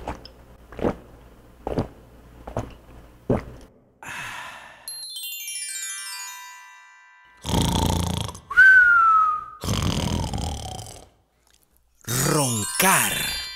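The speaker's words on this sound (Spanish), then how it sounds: "Roncar." Four evenly spaced snores rasp one after another, followed by a whistle and other comic vocal noises.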